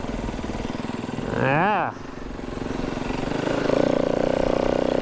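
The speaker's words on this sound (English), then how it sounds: "appears to just be one snow bike out here" A single snow bike's engine runs steadily outdoors in deep snowpack, a continuous motor drone that briefly swells and pitches up as if revving, then settles into a steady hum; a voice speaks briefly near the start.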